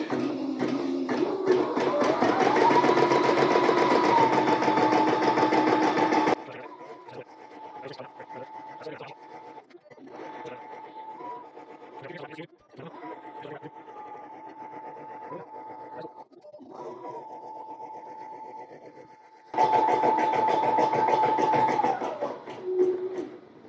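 Caydo CE01 smart embroidery machine stitching a design, a steady mechanical whirr with a constant tone that runs loud at the start and end and drops quieter through the middle, pausing briefly at a few points.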